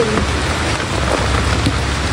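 Heavy rain pours down steadily, a dense, loud hiss of drops drumming on a surface with no break and no voices.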